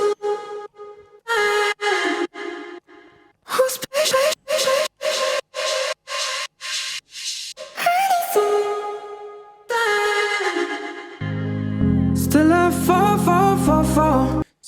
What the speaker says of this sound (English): the vocal chops. They sound like this.